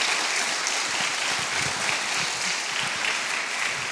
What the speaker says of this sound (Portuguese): recebam mais uma vez com muito carinho o pastor Hélio, por favor, com suas salvas de palmas.